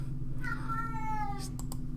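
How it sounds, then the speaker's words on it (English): A pet cat lets out a long, drawn-out meow in the background over a steady low hum, followed by a couple of faint clicks. "If you hear in the background that my lovely kitty cat is going nuts,"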